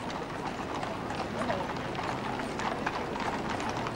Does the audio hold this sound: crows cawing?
no